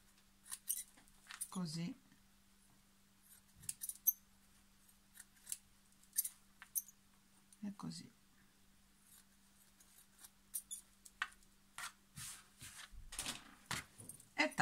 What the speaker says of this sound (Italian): Ora vado a tagliare l'imbottitura in eccesso, così,